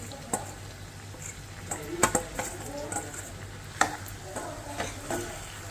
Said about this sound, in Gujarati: હવે આપણે જે પૌવા છે પલાળેલા તેની અંદર એડ કરી નાખશું